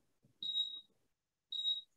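An induction cooktop gives two clear, high electronic beeps about a second apart as it is switched on, with faint clatter of a pot being handled beneath the first tone.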